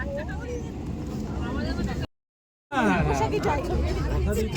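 Dense passenger chatter fills a packed morning Bongaon local train, heard from beside the doorway, with steady rumble and hubbub, a brief dropout midway, then the babble returns close and loud.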